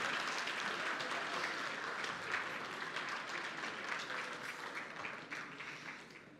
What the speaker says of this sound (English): Can we have another huge round of applause?